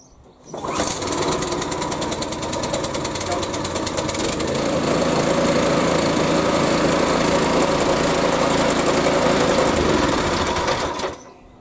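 A Hyundai HYSC210 212cc petrol lawn scarifier engine starts and runs with a loud, steady, rapid chugging drone. It is close, continuous for about ten seconds, then cuts off abruptly.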